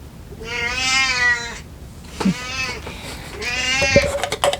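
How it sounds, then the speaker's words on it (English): A cat meows loudly twice, long drawn-out cries with a pause between, plus a short faint mew in the middle and a few soft knocks near the end. "The cat is down here."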